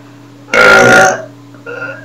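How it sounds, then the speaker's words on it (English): A single loud, close burp rumbles for about half a second from someone sitting in a bathtub, followed by a quieter voiced sound, over a faint steady hum. "I hope you guys enjoyed my video of me burping."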